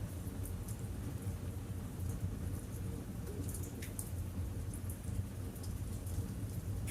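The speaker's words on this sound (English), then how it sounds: "you hear the first few drops of a gentle rain outside" Gentle rain falling outdoors, a steady soft hiss of drops with faint scattered patter, even and continuous throughout, with no voices.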